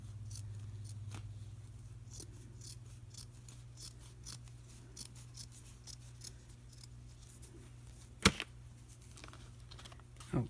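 Scissors trim a small edge off paper for a homemade stamp cleaner craft, a run of quiet, irregular snips close by over a steady low hum, with one sharper cut standing out near the end.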